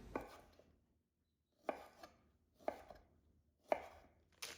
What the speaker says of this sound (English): Then chop them into smaller pieces.